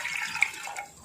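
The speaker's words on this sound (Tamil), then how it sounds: "தேவையான அளவு தண்ணி ஊற்றிக்கலாம்." Water poured over 300 grams of turmeric-washed mutton in a pressure cooker, a brief, soft splashing gurgle lasting about a second, faint and close.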